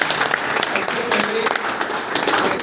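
An audience at a live training session applauds energetically, its dense clapping mixed with voices speaking over it.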